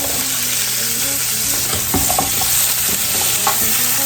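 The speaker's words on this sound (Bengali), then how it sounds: "এখন এই যে আলু আর ক্যারেটসগুলো আমি এটাতে একটু ভেজে নিব" Potatoes and carrots frying in a pan, a steady loud sizzle with occasional stirring scrapes and clinks, no talking.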